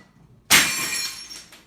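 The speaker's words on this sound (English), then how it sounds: "that was my cat who just knocked the glass over" A drinking glass knocked over by a house cat shatters in one loud, sudden crash after a quiet moment, its bright ringing fragments tinkling away over the next second.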